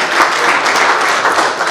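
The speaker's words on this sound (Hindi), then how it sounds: "जोरदार तालियों से स्वागत कीजिए" An audience at a speech event claps to welcome a speaker to the stage, a brief, loud, even burst of many hands clapping together.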